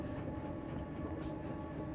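Railcars rolling by in the background of the video game INSIDE, a steady low rumble and clatter with a thin high whine above it, even and subdued throughout.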